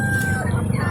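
A rooster crows at a chicken seller's stall, its call a thin, drawn-out note over a steady, noisy market background.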